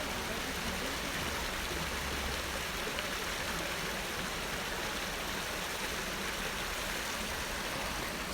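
Continuous broad rushing of a small waterfall in volcanic Hell Valley, Noboribetsu, Hokkaido, a steady dense roar with no pauses or voices, fairly close.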